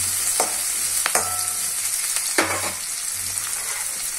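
Curry leaves sizzle in hot oil in a pan of frying okra, a steady close crackling hiss with a few sharper bursts as the leaves hit the oil and are stirred.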